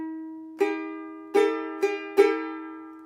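A chord pattern is strummed on a stringed instrument: a partial strum, then full strums, four bright attacks in a quarter-eighth-eighth-quarter rhythm, each ringing out clearly over a sustained tone with no voice.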